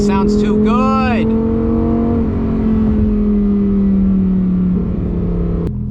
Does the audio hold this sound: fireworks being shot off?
no